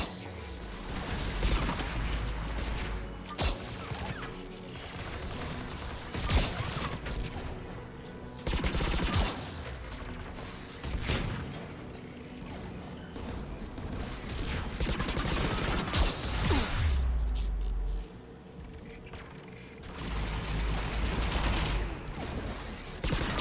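Anti-aircraft guns pound away in the Mass Effect 3 video game, dense rapid bursts of firing and booming impacts that continue almost without a break, loud and layered with battle noise.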